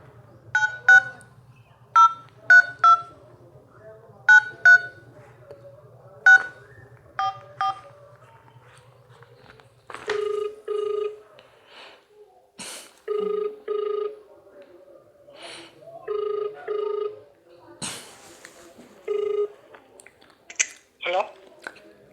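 A telephone keypad dials a quick string of paired tones in short bursts, then a phone line rings with repeated ring tones at steady intervals, close and clear, over a faint low hum.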